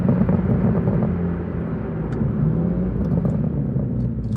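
A 2024 BMW M2 pulling hard from a standing start, heard as a deep, loud engine rumble from inside the cabin that stays strong throughout, with a few faint clicks and no talking.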